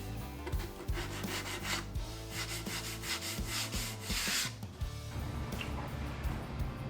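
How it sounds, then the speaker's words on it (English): Sanding block rubbed back and forth over a wooden table in rhythmic, close strokes, a raspy scraping that speeds up in the middle and then slows, with no voices. "It's a good just regular block to sand with."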